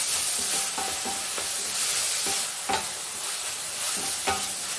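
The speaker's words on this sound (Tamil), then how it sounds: "தக்காளி சேர்த்து நல்லா வதக்கிக்கலாம்" Tomatoes sauté in hot oil in a pan with a steady loud sizzle, while a spoon scrapes and stirs in repeated strokes every second or so.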